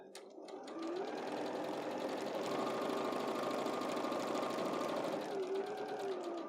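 Sewing machine running a straight seam through fabric at a steady, comfortable speed, its fast mechanical whir continuous and close, with a brief hum as it starts and runs on throughout.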